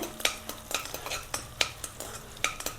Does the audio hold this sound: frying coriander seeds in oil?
yes